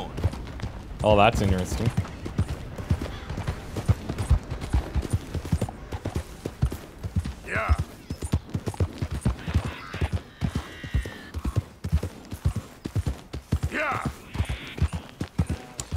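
Horse hooves clip-clop in a rhythmic, steady gallop in the Red Dead Redemption 2 video game, with someone talking over the top and a few brief game sounds breaking in.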